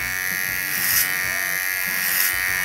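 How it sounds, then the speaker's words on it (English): Electric hair clippers buzz steadily close by while working clipper over comb up from the nape for a pompadour fade, a continuous whine with slight changes in pitch as the blade moves through hair. "I'm gonna start with the clippers."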